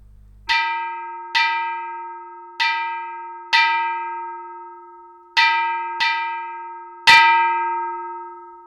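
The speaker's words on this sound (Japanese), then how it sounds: "急いで火の見櫓に駆け上がり、力いっぱい半鐘を鳴らしました" A fire watchtower alarm bell (hanshō) struck hard seven times in an uneven rhythm, each loud metallic clang ringing on with a long sustained tone, the last strike the strongest.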